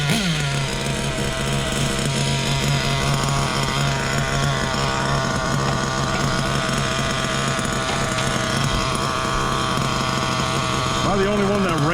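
Ofna LX2 nitro RC car engine running steadily close by, a buzzing high-pitched drone with slight wavering throttle, constant and loud throughout, ending with a brief rev.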